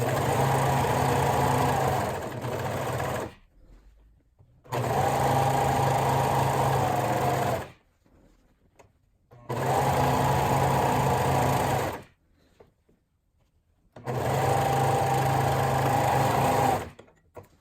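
A sewing machine stitches shirt-fabric flounces together with almost no seam allowance, running in four steady bursts of a few seconds each, separated by brief pauses, close and fairly loud.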